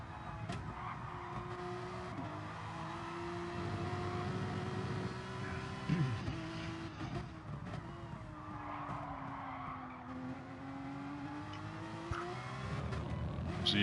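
Porsche race cars in a sim race: steady engine drone with shifting pitch and tire skids, heard at a moderate level throughout, the same car for every driver.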